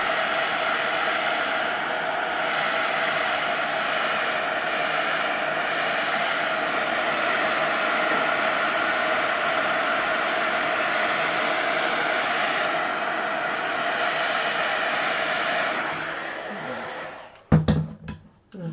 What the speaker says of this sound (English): So I'm just going to dry that StazOn off.